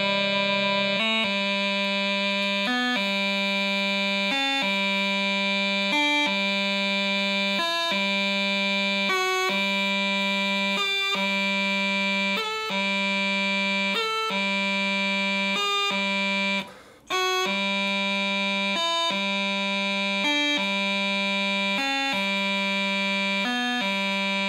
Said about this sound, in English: a grace note scale. We're staying on low G the whole time,